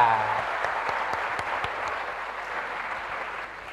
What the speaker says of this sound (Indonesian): Kita kasih aplaus untuk Pak Ganjar ya